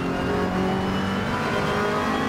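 A Ferrari 488 GT3 race car engine at Monza in Assetto Corsa Competizione, droning steadily and loudly as it pulls hard under acceleration, alone with no voices.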